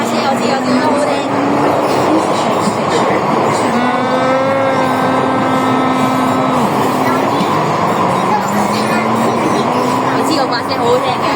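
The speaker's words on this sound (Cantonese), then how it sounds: "我聽到嗰個直流馬達嗰個 GTO 嗰把聲啊，好正啊" An MTR Kwun Tong line train with GTO-controlled DC traction motors runs between Kowloon Tong and Ho Man Tin: a loud, steady in-car rumble carries whining motor tones that rise and fall, with a bright rising harmonic sweep midway through.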